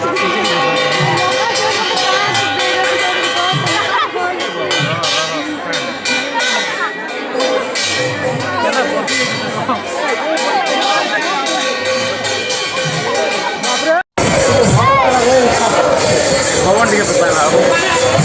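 Large festival crowd at the Rath Yatra, a dense wash of chatter and voices that stays loud and continuous throughout, with a brief dropout near the end before the crowd noise returns; people talk close by over the crowd.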